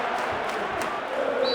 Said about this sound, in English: Big booing from the opposing fans.